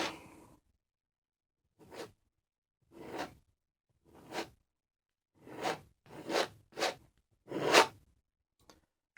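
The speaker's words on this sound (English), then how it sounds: "we just scrape that excess paint as we pull it down" A palette knife drags down an oil-painted canvas in a series of separate scraping strokes, each a short rasping swish, about eight in all with silent gaps between, close and fairly quiet.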